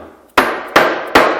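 Three sharp, loud hammer blows strike a thin wood piece held against a wooden corner joint, evenly spaced, each a crisp woody knock with a short ringing tail, no voices.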